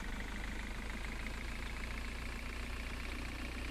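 A car engine idles steadily with a constant hum and rumble, even and uninterrupted for the whole stretch.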